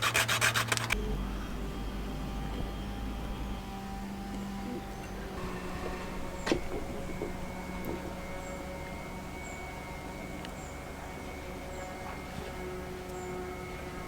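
Steady rasping and rubbing as metal boat skin fittings on a sailing boat are trimmed down to length, a continuous close scraping with a few faint clicks, no voices.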